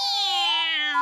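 A cartoon cat meows in one long, loud, drawn-out wail lasting about a second, with a bright harmonic cry sliding slowly downward, standing alone without talk.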